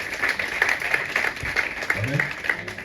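A church congregation claps and cheers for the Lord during a Sunday service, steady applause from a crowd running throughout, with voices mixed in.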